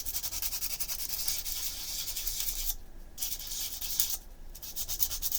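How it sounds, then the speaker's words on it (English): A dirty aluminum gear being sanded by hand: a close, continuous rhythmic rasp of scratchy strokes, broken by two short pauses. "This one's all dirty, so I am going to give it a little bit of a sanding,"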